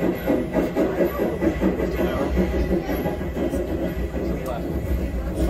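A simulated train ride at Royal Railway aboard the cruise ship Utopia of the Seas gives a steady low rumble and rhythmic clatter, with people talking over it.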